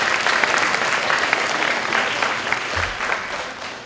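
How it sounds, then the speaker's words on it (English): Audience applause at the El Dorado Hills Vision Coalition Youth Star Awards 2013, a sustained round of clapping from a crowd that holds steady and then begins to taper off near the end. "Give Rayanne Jones a big round of applause for organizing this."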